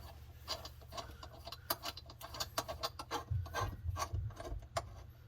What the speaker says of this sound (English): as I tighten these screws by hand, you can see that metal disc rising up